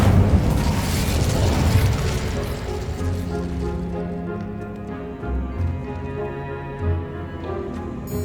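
Incendio fire spell cast in Hogwarts Legacy: a booming burst of flame opens loudly, then decays into a lingering rumbling crackle under sustained game music, with no voices.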